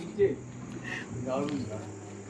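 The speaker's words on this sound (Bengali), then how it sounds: "শুধু ঝিঝি পোকার ডাক ছাড়া কিছু নেই" Crickets chirp steadily in a quiet mountain forest between Chamba and Dhanaulti, a thin continuous high drone. Someone speaks softly over the drone.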